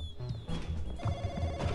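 A telephone rings inside the video game Sneaky Sasquatch, a short burst of electronic ringing over busy game background sounds, with no talking.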